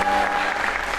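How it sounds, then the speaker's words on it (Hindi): A talk-show studio audience breaks into a short, dense burst of applause, a close and fairly loud wash of clapping hands with a faint voice murmuring underneath. "तालियां इस बात पे यार।"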